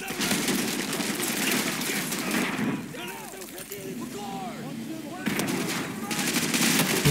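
Automatic gunfire bursts from a Call of Duty Modern Warfare match, loud and dense at the start and end with a quieter lull in the middle, with voices talking over the game audio.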